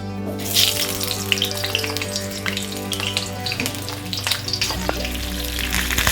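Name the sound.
potato pieces frying in hot oil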